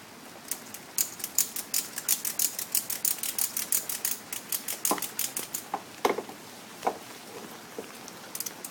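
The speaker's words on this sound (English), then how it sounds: "And you want to keep cranking it until it starts to lift the barrel up off the ground." A ratchet strap being cranked to lift a barrel on a custom trike gives a rapid run of sharp metallic clicks in bursts, close and fairly loud, with no talking.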